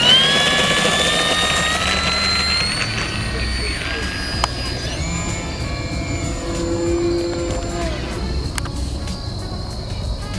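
Electric motor of an FMS Kingfisher 1.4m RC seaplane whining steadily as it accelerates for takeoff from water, the pitch climbing then shifting while someone talks over it outdoors.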